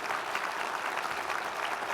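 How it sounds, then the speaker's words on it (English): Steady applause from a crowd at a breakfast event, dense clapping that continues evenly throughout without any break. "let's give the workers a round of applause who did such a good job with us this morning"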